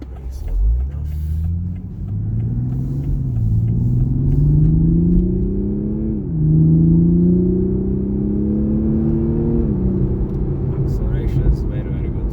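A 2021 Toyota GR Supra with a 3.0-liter engine roars as it accelerates hard, its pitch climbing steadily and dipping at two gear changes across a long, loud pull.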